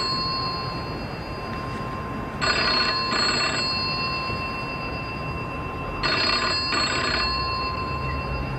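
A telephone rings in two separate bursts, each a pair of quick electronic trills, fairly close over a steady background hum, with no voices.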